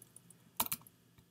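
A short burst of computer keyboard typing during code editing, a few quick close keystrokes clustered together, then quiet with one faint later tap.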